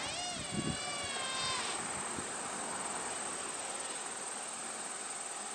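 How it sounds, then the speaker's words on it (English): An Eachine Fury Wing RC plane flies overhead, its spinning propeller giving a steady high-pitched whine with a rising and falling tone early on, then a constant buzzing drone against outdoor noise. "Maybe keep the prop spinning just a little bit."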